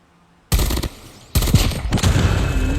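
A gun sound effect plays from a Gundam Deathscythe model in loud, harsh bursts of rapid synthetic machine-gun fire that start abruptly, briefly drop back, then surge again and keep going to the end.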